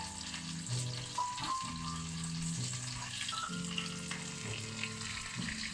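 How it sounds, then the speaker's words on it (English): Chicken thighs frying in garlic butter give a constant close sizzle, with a few clunks and scrapes of stirring in the pan, no voices. "lightly fry them"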